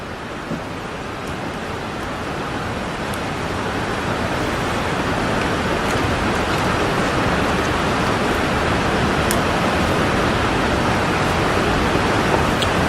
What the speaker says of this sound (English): You may hear some rain outside the building today.